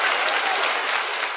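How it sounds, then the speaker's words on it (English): Short burst of applause during a live CAD modeling stream, a dense even patter of many clapping hands, moderately loud with no voices over it. "that's definitely an applause for sure"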